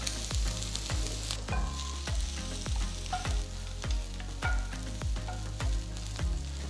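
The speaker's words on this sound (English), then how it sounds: "Saute the vegetables for about 2 to 3 minutes" Vegetables and shredded cabbage sautéing in a hot pan for a ramen stir fry, with continuous sizzle and repeated clanks of tossing and stirring in a steady rhythm.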